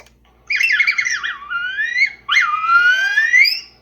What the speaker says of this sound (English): These are the iconic Mouse Droid sounds, probably captured from the movie.